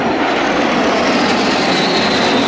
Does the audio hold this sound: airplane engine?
yes